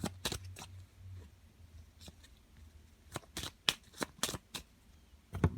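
Tarot cards are shuffled and cut by hand, close up, making a quick run of crisp riffling flicks and a few sharp slaps, spaced out and separated by short quiet gaps.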